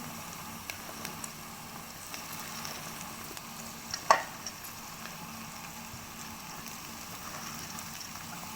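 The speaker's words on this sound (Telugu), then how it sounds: "ఇప్పుడు కాకరకాయలు వేసేద్దాం ఫ్రెండ్స్" Bitter gourd pieces fry with onions in a pan, producing a faint, steady sizzle with a few soft clicks and one sharper tap midway, and no talking.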